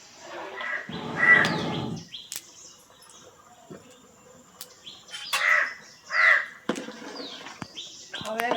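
Crows caw outside a village home in the Konkan, with several harsh calls in separate bursts and faint chirps between them, against a quiet background.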